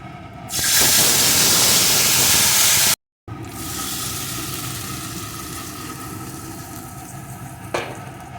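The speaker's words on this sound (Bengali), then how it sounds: "এখন এর ভিতরে আমি তরকারিটাকে ঢেলে দেবো" Taro curry vegetables hitting hot tempering oil in a pan, a loud burst of hissing sizzle that drops after a brief gap and continues as a steady frying hiss.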